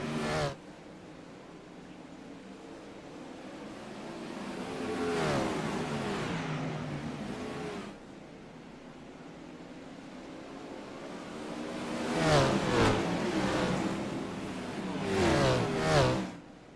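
Wingless sprint cars race on the dirt track at Charlotte, their engines rising and falling as they pass, with one surge midway and a louder cluster of cars roaring by near the end, heard from a distance.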